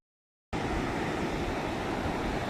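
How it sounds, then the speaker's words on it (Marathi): Sea waves wash onto the beach at Kelshi as a steady, loud, broadband roar that starts abruptly after a brief silence, with no voices. "हा आपला केलशी समुद्र"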